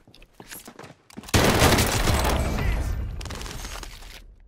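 Shotgun fire in a multiplayer shooter game. A few sharp shots sound first, then a sudden loud blast gives way to a dense roar of gunfire and debris that slowly fades over several seconds.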